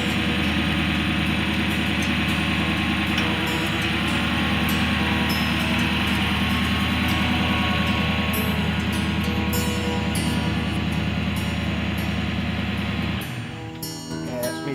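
A Chevrolet Silverado truck engine idles steadily and close by with a smooth, constant rumble before it is switched off near the end, where it cuts out and leaves faint clicks.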